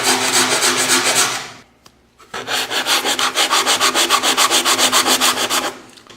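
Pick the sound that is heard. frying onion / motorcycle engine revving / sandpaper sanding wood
sandpaper sanding wood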